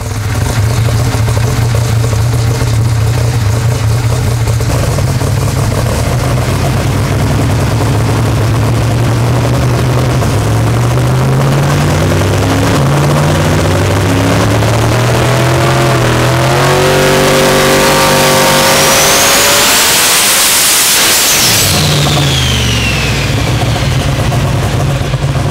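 A car engine on a dyno revs up steadily, its pitch climbing loud and continuous until it bounces off the rev limiter, then drops away sharply and settles back.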